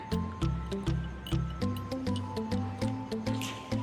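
Floured chicken pieces for homemade popcorn chicken are dipped one after another into ice-cold water, giving a steady run of soft, close wet plops and squishes at an even, quick rhythm.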